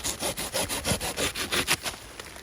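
A hand saw cuts through a hazel branch in about ten quick, even back-and-forth strokes, close up and fairly crisp, with no other sound around it.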